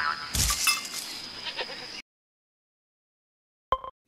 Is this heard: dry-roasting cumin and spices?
no